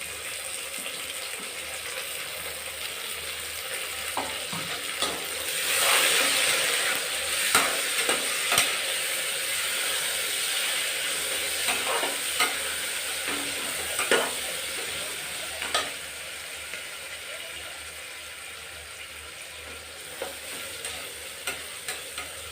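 Fenugreek leaves and chopped onions frying in oil for methi pulao, a steady close sizzle with repeated scraping clicks of a spoon stirring the pan throughout.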